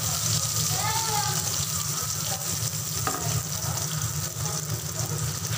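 Onions and green chillies sizzle steadily in hot oil for a South Indian sambar, a continuous frying hiss under a voice talking throughout.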